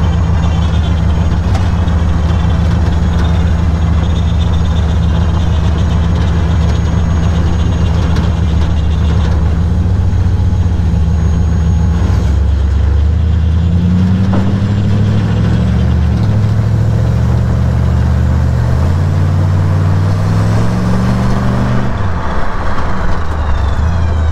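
Ford Model A hot rod engine idles with a loud, steady low rumble close by, then revs several times in rising and falling surges before settling back, continuous throughout with no voices.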